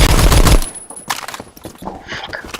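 Gunfire in the Roblox-style shooter Phantom Forces with a Sten or grease gun: a loud rapid burst at the start, then scattered quieter shots and game effects trailing off.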